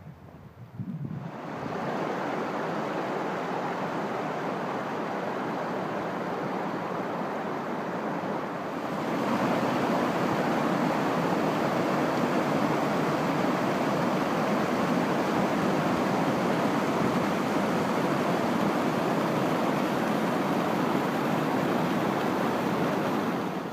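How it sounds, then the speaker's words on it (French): Steady, broad rushing of water from a small forest stream, loud and continuous, growing a little fuller partway through, with no voices. "j'entends le bruit de l'eau"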